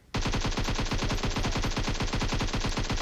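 An Uzi fires in the mobile game PUBG Mobile, a loud, sustained automatic burst of evenly spaced rapid shots that runs unbroken from start to finish.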